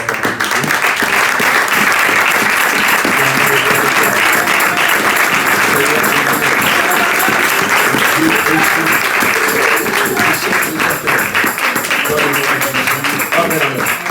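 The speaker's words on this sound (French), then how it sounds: "Alors nous allons nous lever pour acclamer la parole de Dieu." A church congregation at a Sunday service stands and applauds in a sustained, loud burst of clapping that fills the whole stretch, with voices mixed in underneath.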